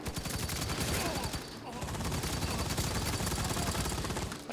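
Gunfire in the sci-fi shooter game Firefall, a dense continuous burst of rapid automatic shots with a brief break midway, loud and steady with some talk mixed in.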